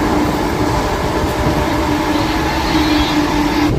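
A MEMU commuter train is underway, heard from inside the coach as a loud, continuous rumble and hiss with a faint steady whine and light wheel clatter, without talk.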